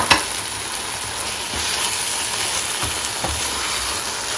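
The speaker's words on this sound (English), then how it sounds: "so we are adding the prawns to it." Prawns fry in curry sauce in a hot pan, a steady loud sizzle with occasional stirring scrapes and clicks, heard alone without talk.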